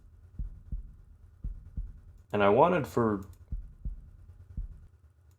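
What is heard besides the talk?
heartbeat sound effect in video game Deltarune: Rift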